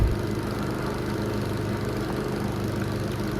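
A riding lawn mower runs with its blades engaged, giving a steady, close engine drone with a chopping low-mid texture that stays even and unbroken throughout.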